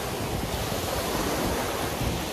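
Sea waves wash up on a beach in Crete, making a steady broadband rush that sounds close and fairly loud, mixed with wind buffeting the microphone. No voices are heard.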